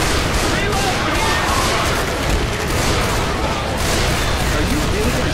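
Magnum pistol gunshots in the video game Left 4 Dead 2, dense booming shots over a chaotic roar of combat, with a voice talking underneath.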